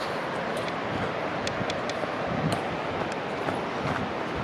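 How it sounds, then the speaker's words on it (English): A steady, broad rushing roar of water from Yellowstone's Lower Falls fills the clip without pause, dense and constant like a waterfall heard from a moderate distance, with faint higher ticks on top. "We can start to hear that water more loudly."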